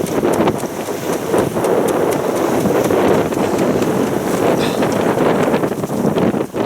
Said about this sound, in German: Wir haben jetzt etwa 13 Knoten Wind.